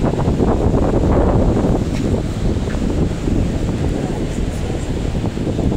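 Steady wind gusting at the seaside in Kribi, Cameroon, a loud, continuous broadband rush of air buffeting the microphone throughout, with no distinct breaks.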